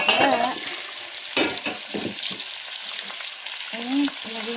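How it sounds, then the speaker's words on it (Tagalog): Tilapia frying in a pan of sautéed aromatics before coconut milk goes in, a loud close sizzle with bursts of spattering and stirring scrapes throughout, under no speech. "Ayan na guys, ilagay natin ang ating isda."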